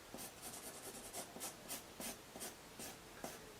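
Pencil sketching rough half circles near the bottom of a sheet of paper for a unicorn craft, a run of soft, close scratchy strokes repeating in an uneven rhythm with no talking.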